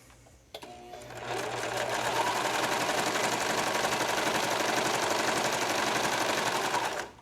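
A sewing machine stitches up the back seam of a knit racer-back tank top, running steadily for about six seconds after a brief handling noise, then stopping.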